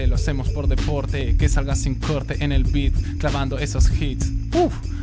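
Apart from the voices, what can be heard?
No everyday noise stands out behind the speech.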